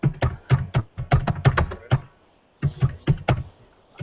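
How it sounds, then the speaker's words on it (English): Someone types loudly on a computer keyboard, with rapid clusters of sharp clacking keystrokes, a brief pause, then another burst, close and prominent with no talking. "there's someone typing who's typing very loud"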